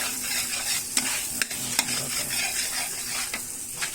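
Butter melts and sizzles in a hot pan while buffalo wings are being cooked, a continuous bright crackle with occasional stirring scrapes and clinks, close up with no talking.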